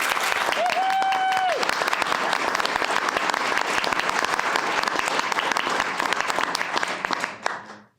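Applause in a city council meeting chamber, a crowd clapping steadily and fairly loudly throughout, with a brief voice or tone early on, then fading out at the end.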